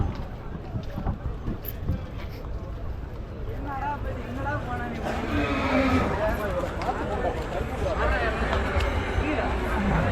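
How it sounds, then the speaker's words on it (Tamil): Horses at a temple chariot festival (ther thiruvizha) in Anthiyur, India, with neighing and hoof sounds blended into a loud, continuous crowd hubbub and babble, growing busier toward the end. "இதெல்லாம் ஃபுல்லாக குதிரை தான் இருக்குது"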